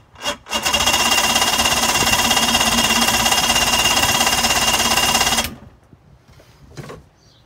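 A cold 2005 Mercury 115 two-stroke outboard on a 17 ft Mako center console runs roughly under throttle, a loud harsh buzzing roar for about five seconds that cuts off abruptly, followed by faint scattered noises.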